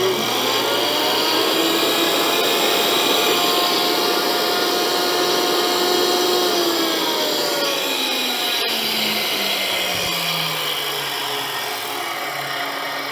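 Toolpost grinder wheel, noticeably out of balance, being dressed with a Yuasa radius dresser: a steady high whine with shifting tones as the dresser sweeps across the wheel, continuous and close, no talking.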